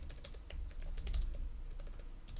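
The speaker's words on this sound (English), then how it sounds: "we're going to type in young woman." Typing on a computer keyboard: a quick, uneven run of close, crisp key clicks over a couple of seconds, with no voices.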